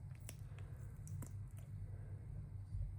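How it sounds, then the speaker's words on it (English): Resin puffy hearts are pulled from silicone molds, giving faint, soft squishing and a few sharp little clicks and pops against a quiet background. "Okay, it is time for demold."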